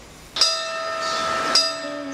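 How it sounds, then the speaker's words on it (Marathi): Two struck strikes of a temple bell hanging before a Maruti (Hanuman) shrine, each a sharp onset followed by a sustained ringing tone that lingers, heard fairly close with no talking. "मारुती राया समोर वाजणारी ही घंटा कुठला इशारा देत आहे?"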